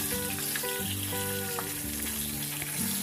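Pabda fish frying in oil in a pan, a steady close sizzle with crackling bursts as the pieces are turned over, alone with no talk.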